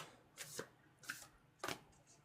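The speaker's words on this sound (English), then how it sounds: "I'm gonna shuffle and just kind of do some breathing exercises" Playing cards are shuffled three times in quick, soft riffling bursts, close by and fairly quiet in a calm room.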